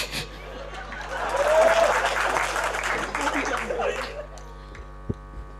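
An audience at a Hindi comedy poetry gathering breaks into applause and chuckles, a swelling, roomy wash of clapping that peaks early and fades over a steady electrical hum, with a few thumps near the end.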